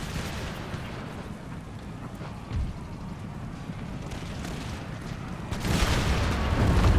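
Musket volley fire in Empire: Total War at the Battle of Genoa, distant rumbling gunfire with a low boom midway and a louder crackling volley rising near the end.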